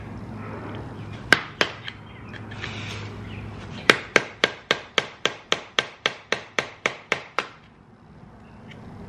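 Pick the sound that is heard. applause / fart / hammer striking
hammer striking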